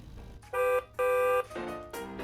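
A toy horn beeps four times in quick succession, bright electronic tones, the first two loud and sustained, the last two slightly softer.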